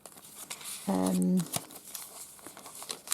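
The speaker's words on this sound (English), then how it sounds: "It's tissue paper." Tissue paper handled for a vintage-style pink journal, giving one short crinkle and rustle in the middle, close and quiet, among faint soft handling noises.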